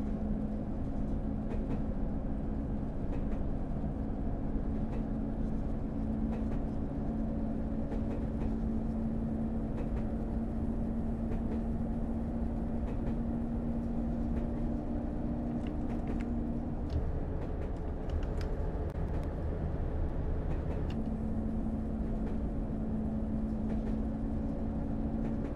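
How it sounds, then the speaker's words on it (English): A passenger train labouring uphill on the Bishop Auckland to Wearhead line, heard from inside as a steady, heavy rumble with a droning engine tone that holds, drops out briefly and returns, continuous and close. "Going uphill and it's struggling this train."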